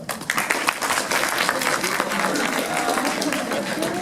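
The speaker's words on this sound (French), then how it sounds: "Applaudissements." A crowd applauds at a manga fan conference at an Asian culture expo, a sustained burst of clapping with a few voices underneath.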